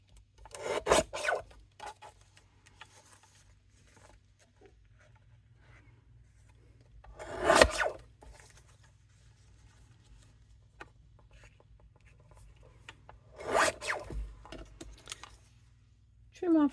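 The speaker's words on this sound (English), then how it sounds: "I'm going to go with my trimmer. Trim off all the pieces." Paper trimmer slicing off paper pieces for a craft card, three distinct rasping cuts spaced several seconds apart, close and clear over quiet background hum.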